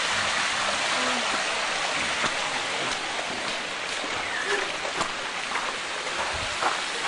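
Water pours down like a shower inside a Grand Canyon chamber, a dense, steady hiss of falling water with scattered splashes, close and continuous.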